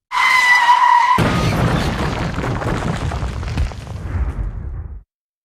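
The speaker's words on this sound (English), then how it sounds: "I just lost control and crashed into this abandoned house." A car loses control and crashes into an abandoned house: a sharp tyre squeal for about a second, then a loud crash and a long rumbling, rattling impact that slowly fades.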